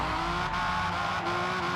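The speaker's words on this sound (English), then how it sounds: "So far, the revving sound is" Toyota Camry TRD engine held at a steady high rev in Forza Motorsport, a continuous loud droning hum with no break, close and alone.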